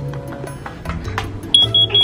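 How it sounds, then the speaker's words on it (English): Household alarms sounding, with short repeated high beeps in the second half over a background of soft movement and rustling. "Those alarms, as you can hear, are still going off."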